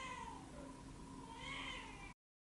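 A pet cat meows in a drawn-out, rising and falling cry, faint and somewhat distant, lasting about two seconds before cutting off.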